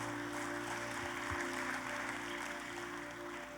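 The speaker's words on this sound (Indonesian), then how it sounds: "Tepuk tangannya yang paling meriah buat Tuhan kita." Church congregation clapping during an Indonesian sermon, a steady wash of applause at moderate level with a sustained musical drone underneath throughout.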